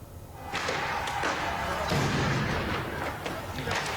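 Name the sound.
follow-up explosions after an airstrike on a house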